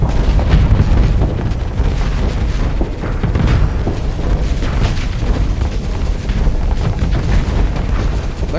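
Ship weapons fire continuously at a large enemy ship in the space combat game Starsector, a dense barrage of booming blasts and rapid explosive bursts rolling on loud and unbroken for several seconds.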